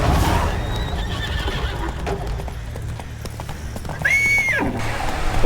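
Roach, the horse in The Witcher 3: Wild Hunt, gallops with steady clip-clop hoofbeats throughout, then lets out a loud, high whinny near the end over the game's background sounds.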